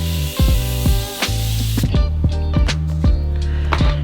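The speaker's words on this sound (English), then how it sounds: "And then you can go back in with some setting spray" A Morphe Jumbo Setting Spray bottle releases a long continuous hissing mist, close up, then a series of short sharp pumping clicks follows.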